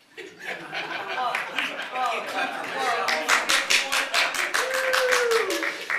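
An audience at a ward council meeting breaks into clapping that grows into a brisk round of applause, mixed with chuckles, laughter and talking voices throughout.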